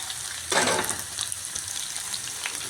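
Cauliflower, butter beans and potatoes stir-fried together in a pan for veg kadai make a soft, steady sizzle with one brief, louder burst as they are stirred, close and with no voices.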